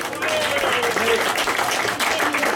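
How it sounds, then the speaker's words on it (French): An audience at a singing workshop show applauds the performers with a dense, loud clatter of clapping, steady from start to finish, with voices mixed into the crowd noise. "on les applaudit encore très très fort"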